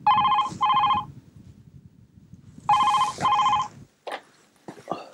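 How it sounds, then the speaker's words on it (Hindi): A telephone rings in two pairs of bright electronic trills separated by a pause, clear and close, followed by a couple of faint clicks like a receiver being handled. "समीर, कॉल है दुबई से।"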